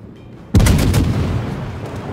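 Naval guns of the cruiser HMS Belfast firing in a warship video game: one sudden loud boom after a quiet lead-in, followed by a long rumbling tail that fades slowly.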